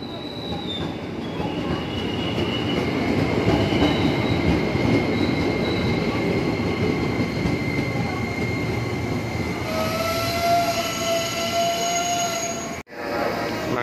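A new INKA-built KRL electric commuter train of ten cars arrives at Lenteng Agung station, its wheels squealing in long sustained tones over a steady loud rumble, with brief additional squeals near the end.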